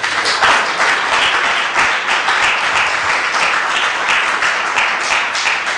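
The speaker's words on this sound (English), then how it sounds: "let's have a round of applause for our panelists" Audience applause for a panel of speakers at a tax policy discussion, a steady, dense wash of clapping from a sizable crowd that holds at an even level for several seconds with no voices on top.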